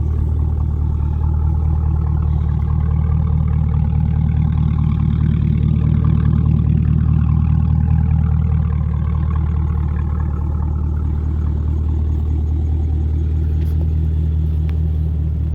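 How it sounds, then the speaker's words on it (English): A 2023 Cadillac Blackwing with a bi-mode exhaust idles and revs steadily for the whole stretch, deep and rumbling, loud and close, with a throaty low burble and no talking. "But that exhaust sounds really good."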